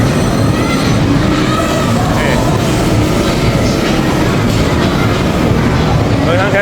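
An amusement park train ride rumbles along with steady rolling clatter and faint wheel noise, loud and continuous, while voices chatter over it.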